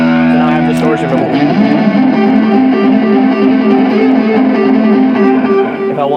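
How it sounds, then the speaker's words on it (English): A sustained tone runs through an Eventide distortion effect placed ahead of echo and reverb, giving a thick, buzzing, continuous sound at steady high level with smeared, ringing harmonics. "So now I have distortion before."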